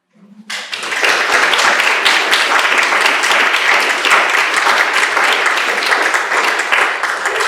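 Applause breaks out abruptly at a public talk on the history of Aiken County, a loud, sustained, dense clapping from a seated audience that holds steady to the end.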